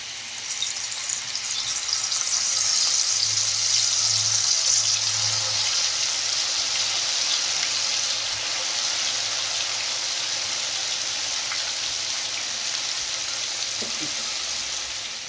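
Marinated soya chunks (meal maker) frying in hot oil in a pan for soya biryani, giving a loud, continuous crackling sizzle close by with no break throughout.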